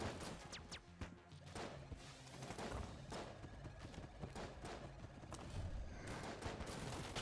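Dense, rapid gunfire from the Mega Hand weapon in the video game Enter the Gungeon, with loud overlapping shots and impacts packed into a steady barrage throughout.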